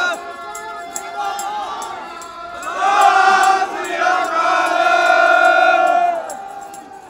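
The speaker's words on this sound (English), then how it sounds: "That's the Sikh war cry." A crowd at a Khalistan referendum rally in Trafalgar Square, London raises the Sikh war cry, loud and sustained with massed voices swelling midway and holding before easing off.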